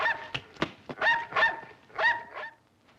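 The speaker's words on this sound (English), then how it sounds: "Nice doggy. Nice doggy. He'll bark at him." A dog barks a few times in short sharp bursts, with a small whimper, on the soundtrack of an old 16mm educational film, close and clear with no talk.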